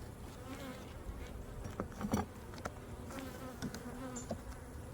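Honey bees from a swarm buzz inside a hive, a dense, continuous low drone heard fairly faint, with scattered clicks and knocks of handling breaking through.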